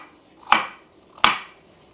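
Two crisp knife chops through vegetables on a cutting board, cutting them into rough one-inch chunks for beef stew, evenly spaced and fairly close, with no talking.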